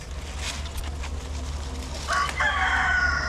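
On a farm where chickens and goats are feeding, a rooster crows near the end, a loud drawn-out call rising over a steady low outdoor rumble and faint clucking.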